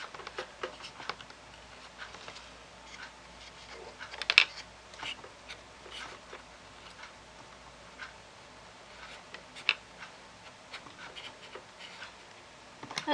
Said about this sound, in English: So I'm just going to cut it to whatever length I want, and we'll go from there. So just cut it at an angle.